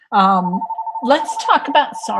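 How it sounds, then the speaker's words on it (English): A telephone rings in the background of an online panel discussion, a repeating electronic trill that begins alone and then continues beneath a man's speech. "that's my phone in the background."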